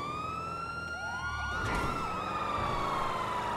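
Police car siren in GTA 5 roleplay, a loud wailing tone sweeping steadily up and down with a brief burst of faster yelp in the middle, close and continuous with no talk over it.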